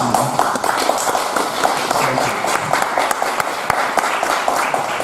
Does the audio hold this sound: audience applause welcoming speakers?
yes